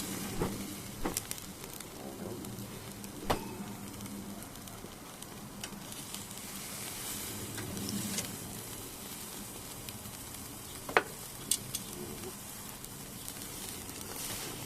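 Steak sizzles over the fire of a Weber Go Anywhere charcoal grill, asado style, a soft continuous crackle and hiss with occasional sharper pops and clicks, fairly quiet and without talk.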